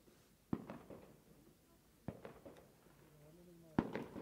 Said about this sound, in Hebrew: זיקוקים.